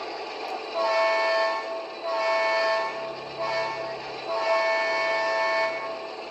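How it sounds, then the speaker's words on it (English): A Piko HO Krauss Maffei ML4000 model locomotive's sound decoder plays its grade crossing horn, a loud, steady multi-tone blast sounded in a long-long-short-long pattern, heard alone with a low motor hum beneath. "26 grade crossing horn. We'll do that one."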